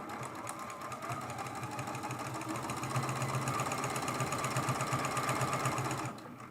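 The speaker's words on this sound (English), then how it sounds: "Our goal is to sew this seam as straight as possible." A sewing machine runs steadily, stitching a straight quilt seam on a fat-quarter table runner, a close, even mechanical whirr with rapid needle ticking that slows and stops at the end.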